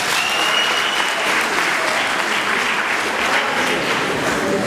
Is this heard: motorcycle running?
no